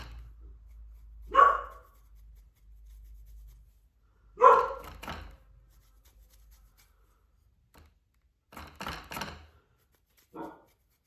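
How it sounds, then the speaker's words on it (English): A pet dog barking indoors, single muffled barks spaced seconds apart and then a short cluster of quicker barks, moderately close over a low steady hum, with no one talking. "I would ask you to excuse my dog that's barking"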